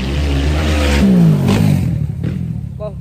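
A vehicle engine revs hard over a rough, bumpy ride, in the manner of motocross riding, loud and close with rising and falling pitch that fades toward the end. Clattering jolts and bumps sound along with it.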